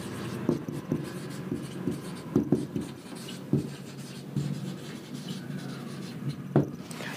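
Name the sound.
writing on a board during a lecture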